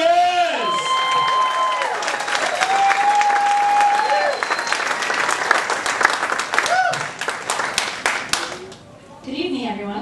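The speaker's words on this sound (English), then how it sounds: "A huge round of applause right now for Alexa Mendez!" A live comedy-show audience breaks into sustained, loud applause and cheering for a comedian being introduced, a dense wash of many hands clapping that fades near the end as she steps up.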